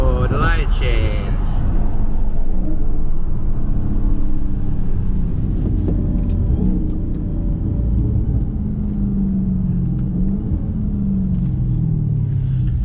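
A Dodge Hellcat accelerates hard from a rolling 60, its deep engine rumble loud and continuous from inside the car as the engine tones climb steadily through the run.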